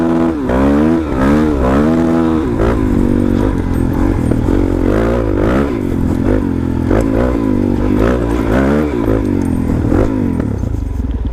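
Suzuki DRZ400SM supermoto on knobby tires ridden hard on dirt, its engine loud and close as it revs up and down repeatedly through gear changes, with scraping and clatter underneath.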